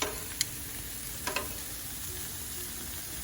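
Asparagus sizzling on a grill beside steak, a steady hissing crackle throughout with a few faint ticks and clicks near the start.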